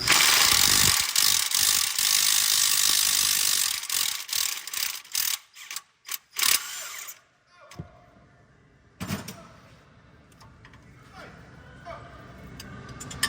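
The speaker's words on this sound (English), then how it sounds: "use some sort of power tool to remove them." Loud, sustained whir of a power tool removing bolts during an Acura TLX Type S downpipe install, running for several seconds, then cutting out into short bursts and clanks with quieter mechanical clicks and pauses.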